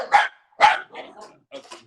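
A dog barks twice in sharp, loud bursts close by, followed by a few softer yips and whines, with no talking.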